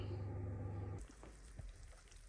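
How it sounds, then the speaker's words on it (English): Rice and greens frying in lard in a pan, a steady dense sizzle that is loud at first, then drops to a softer crackle with scattered pops. "And look at the sizzle on this."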